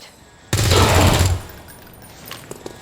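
Rapid automatic gunfire in the XCOM 2 video game on Nintendo Switch, a loud, dense burst lasting about a second, then fading into quieter game ambience with a few faint clicks.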